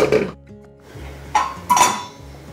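A spoon works maize flour into thickening tô in a pot, producing a few close metallic scrapes and clinks with a low hum between strokes.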